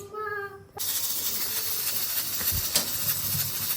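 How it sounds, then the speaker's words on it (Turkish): Steady loud hissing of steam escaping from a pressure cooker cooking lentil and meat mixture, continuous and close, following a brief tonal whistle at the start. "Düdüklü tencerenin düdüğü dönmeye başladığında pişmiş olacak."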